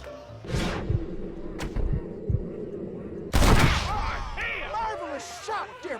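A gunshot in the western game Red Dead Redemption lands as one sharp, loud blast partway through, surrounded by booming thuds, low rumble and someone talking.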